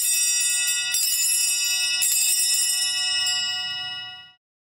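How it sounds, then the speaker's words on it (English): Altar bells ring at Mass as the chalice is raised: bright, shimmering metallic jingles struck in repeated shakes, close and steady, before the ringing fades out. "Ring three times again, when he lifts up the precious blood in the chalice."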